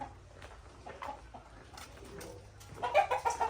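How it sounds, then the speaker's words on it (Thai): Domestic laying hens clucking and cooing softly nearby, scattered calls that build into a louder burst of clucks near the end over a low background rumble. "อันนี้จะไปดูไก่นะครับ"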